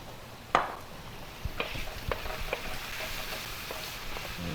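Vegetables sautéing in a pan for Filipino bihon guisado, with a sharp utensil clank near the start followed by soft scattered stirring knocks and a low, steady sizzle close by.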